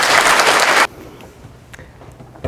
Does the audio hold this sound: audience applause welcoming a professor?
yes